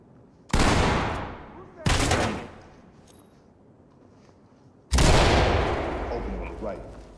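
Shotgun breach and gunfire in the tactical shooter Ready or Not: three loud, booming blasts, each with a long decaying tail, the first two close together and the third after a pause.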